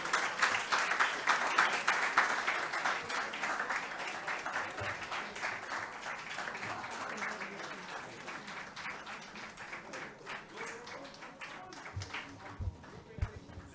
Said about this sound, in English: let's give a big hand to our winners